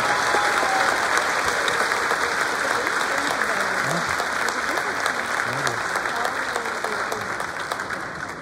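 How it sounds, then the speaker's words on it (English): Applause from the audience at an elementary school fifth grade graduation ceremony, a dense, steady roar of many hands clapping throughout, slowly tapering near the end, with faint voices mixed in. "let's give a round of applause for Ms."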